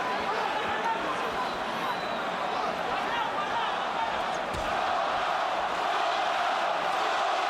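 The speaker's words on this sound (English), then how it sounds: "Puerto Rican crowd begins to chant for the man." Puerto Rican fans at a Miguel Cotto versus Zab Judah boxing match chanting in unison, a dense, continuous arena roar holding steady throughout, loud and full, with a commentator's voice partly audible over it.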